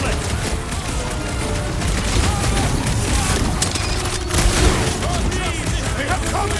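Gunfire in the action game Marvel's Guardians of the Galaxy rattles on steadily as a loud, dense barrage of shots and bangs, with characters' voices and battle noise layered on top throughout.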